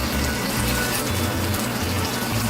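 A cup of water is poured into a pan of fish sauce made with yogurt and leftover marinade for sliced king fish, giving a steady, close, splashy rush of liquid throughout.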